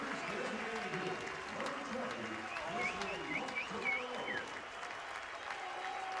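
A baseball stadium crowd at a 2014 Texas versus Houston Super Regional game cheers and claps steadily, with a commentator talking over the noise and high whistles cutting through.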